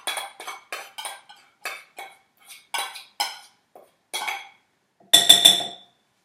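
Diced cilantro scooped into a bowl, a run of light clinks and scrapes of a spoon against the bowl, ending in a louder cluster of ringing taps; close and alone with no talk.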